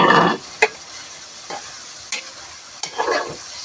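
Chicken and potatoes are stirred and sautéed in a sizzling pan, a loud scrape at the start followed by several short, sharp stirring strokes over a faint steady fry, with no talking.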